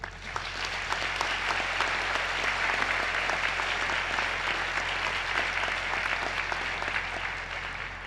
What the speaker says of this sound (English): So they also deserve a big round of applause.